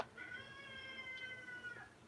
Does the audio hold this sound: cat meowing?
yes